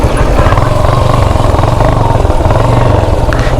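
A motorcycle engine runs loud and close near a garage in Rolpa, a continuous, even rumble with no pauses.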